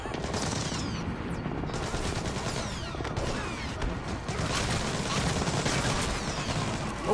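Gunfire in the stealth action game Splinter Cell Blacklist, a dense stretch of rapid automatic shots and bursts running steadily through the whole scene beneath a busy mix of game effects, with no voice over it.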